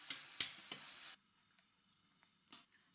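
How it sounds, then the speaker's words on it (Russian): Apples fry in sunflower oil in a lidded pan over lowered heat, a close burst of hissing sizzle broken by a few sharp stirring clicks for about a second, then only faint ticks and one brief hiss. "Наливаю в сковороду подсолнечное масло, выкладываю яблоки, накрываю крышкой, убавляю нагрев и обжариваю их до готовности, периодически помешивая."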